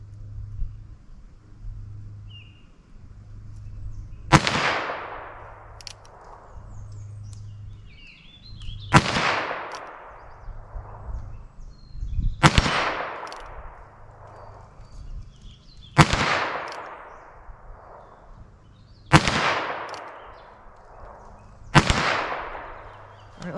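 .22 Magnum CCI Maxi-Mag rounds fired from a single-action revolver, six sharp loud shots spaced a few seconds apart, each echoing briefly outdoors over low background hum.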